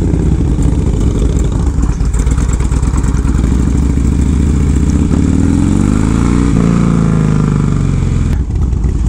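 A Harley-Davidson Dyna fitted with a Clubstyle East Coast FXRT fairing runs loud and close, a deep lumpy idle with throttle blips rising and falling throughout.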